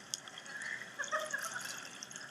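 Dirty water is poured into a container, a faint trickle and light splashing with a few small drips, heard close in a quiet room without talk.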